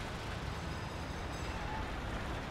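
Steady dense rumble of a train starting to move in a video game, a continuous broadband rolling noise at even loudness throughout, with no talking.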